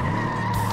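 Tires skidding and squealing as a car drifts through a corner in the racing game FlatOut 2, a steady sustained screech over the engine drone, close and fairly loud with no talk.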